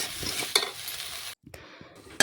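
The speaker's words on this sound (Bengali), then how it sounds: "নাড়াচাড়া করে আমি বেশ কিছুক্ষণ একটু রান্না করে নিচ্ছি" A spatula scrapes and stirs pieces of chicken with tomato in a pan, with soft sizzling frying underneath and a few sharp metallic clinks against the pan, briefly going quiet in between.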